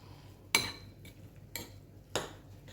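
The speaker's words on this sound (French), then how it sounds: "je remue avec la cuillère" Food for stuffed Chinese cabbage stirred with a spoon in a pot, three distinct close metallic scrapes and clinks spaced about a second apart against quiet background.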